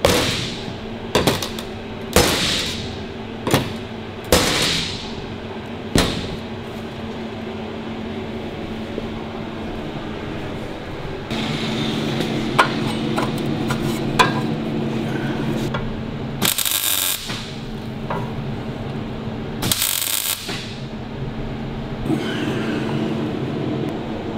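Heavy blows from a big hammer ring out one at a time while making a Harley-Davidson WLA part, loud sharp strikes spaced a second or two apart, with scraping and shuffling between them.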